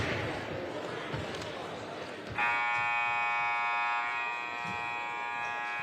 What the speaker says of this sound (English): But the buzzer got stuck, maybe.